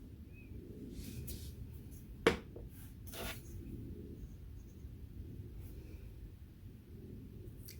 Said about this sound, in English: I'm going to spray that one more time.